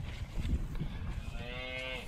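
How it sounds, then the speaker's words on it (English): A Corriente cow lets out a single drawn-out moo, its harmonic lowing swelling in the second half of the clip over steady outdoor background noise. "there's that horned cow"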